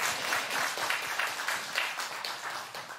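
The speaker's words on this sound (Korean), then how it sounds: "우리 가장 큰 박수로 하나님께 영광 올려드리겠습니다" A church congregation claps in a New Year worship service, a moderately distant, steady wash of many hands clapping with uneven rhythmic peaks.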